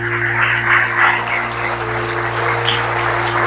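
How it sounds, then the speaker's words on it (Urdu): A church congregation applauding, moderate clapping over a steady low electrical hum, fairly even and continuous without rising to a loud peak. "آؤ مسیح خداوند کے نام کے لیے زوردار تالیاں بجاتے ہیں"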